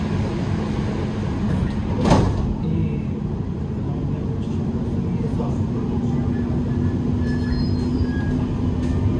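Interior of a Dubai Metro Green Line train near Creek station: a loud continuous rolling rumble with a brief wheel squeal, and a voice heard faintly in the cabin.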